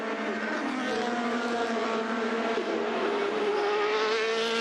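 Formula Master race cars scream around the Imola circuit, a steady high-pitched engine whine held at moderate volume and fairly distant, with no talking.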